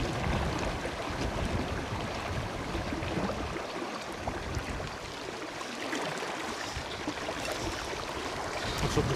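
Strong, gusting headwind of about 20 mph blowing across the River Vyrnwy, a continuous rushing roar close to the microphone with no talking.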